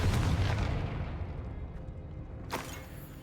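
A fiery blast spell exploding in a Hogwarts Legacy battle, a heavy booming burst up front that rumbles and decays, followed by a sharp crackling whoosh near the end, fairly close.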